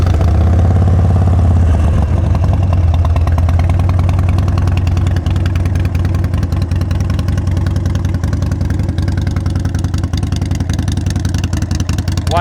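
A Harley-Davidson Sportster 72 XL1200V motorcycle with about 1,245 miles fires up and settles into a loud, close, steady lumpy idle with a rhythmic mechanical clatter.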